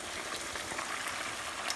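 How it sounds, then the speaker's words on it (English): Steady crackling sizzle of chicken frying in a pan on medium-high flame, close and constant, with small pops scattered through it. "After 5 to 6 minutes of frying the chicken on medium high flame"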